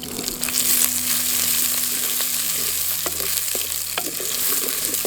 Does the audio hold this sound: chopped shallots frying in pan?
yes